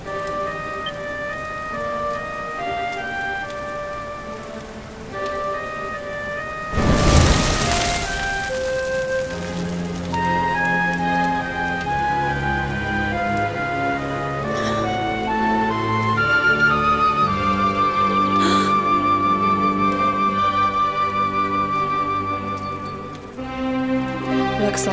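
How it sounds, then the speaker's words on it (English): Rain falls in the Dragon Quest XI video game as a steady wash under layered, sustained musical tones, with a loud burst of noise partway through. The soundscape continues without speech. "The rain's dying down."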